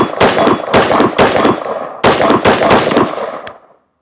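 A Daniel Defense Mk18 pistol firing Fusion 62 grain rounds, five or six sharp, loud, closely spaced shots with a ringing tail and a small metallic clink at the end.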